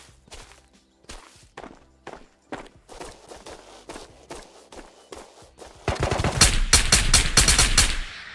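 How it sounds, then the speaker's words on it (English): Gunfire in the Ghosts of Tabor game on an island map: scattered single shots and footsteps give way to a loud, rapid burst of automatic fire near the end, close and alone without talk. "I think I just heard a shot at research as well."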